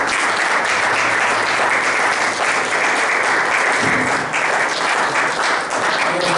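A church congregation applauds, a dense wash of steady clapping from many hands that carries on without a break and sounds full and close, with faint voices mixed in.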